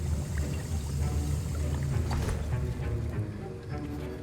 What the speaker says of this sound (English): I see most of you have not forgotten how to stir.